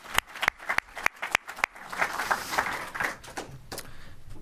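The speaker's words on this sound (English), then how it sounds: "Let's give it another round of applause for everyone" Audience applause at an awards dinner begins with a few loud separate claps, then swells into a soft, steady wash of clapping from a crowd in a hall before thinning out.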